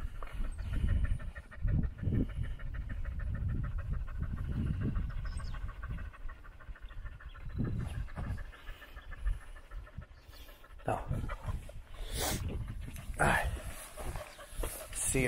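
A dog pants steadily in rapid rhythmic breaths, close by, with scattered talking and some rattling noise over it.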